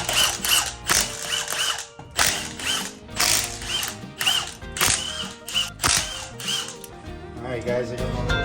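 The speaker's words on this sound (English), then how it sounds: "we gotta take this wheel off so I actually got some room to work" A ratchet wrench cranks rapidly on a Toyota Tacoma wheel in a garage, dense metallic clicking bursts repeating in quick runs with brief pauses, loud and close throughout.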